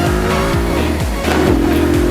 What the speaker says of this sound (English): Give it some revs and up into second.